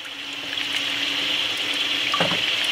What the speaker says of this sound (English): I love catching rainwater.